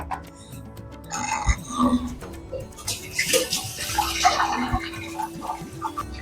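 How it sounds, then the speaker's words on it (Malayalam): Tamarind water pours and splashes into a pot of sambar lentils, a broad watery rush with a few clunks, close by and fairly loud, no talking. "സാമ്പാർ പരിപ്പ് ഞാൻ ഒഴിച്ചു കൊടുക്കുകയാണ് പുളി പുളിവെള്ളമാണ്"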